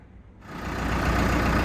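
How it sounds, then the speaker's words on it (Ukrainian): A BASAK 2110S tractor engine starting up: a quiet click-and-crank moment gives way to a rising, steady diesel roar that settles into a loud, even idle close by. "І так, тракторець запустився"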